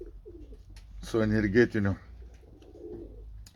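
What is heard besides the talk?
poultry birds calling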